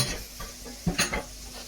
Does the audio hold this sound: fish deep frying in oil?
yes